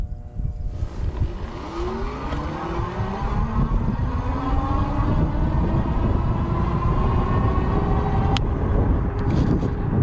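A Go Power Go Express electric scooter at full throttle on a flat straightaway, a rising electric motor whine climbing steadily in pitch over strong wind rumble, continuous and close.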